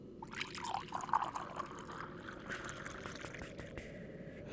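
Tea or water being poured into a cup, a steady close trickle of liquid running for several seconds, quiet and alone with no talking.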